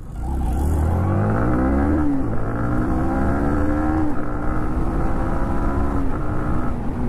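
Yamaha MT15 motorcycle engine revving and downshifting on a wet road, with a worn sprocket, steady loud engine drone with rising and falling pitch sweeps as gears change, close to the rider throughout.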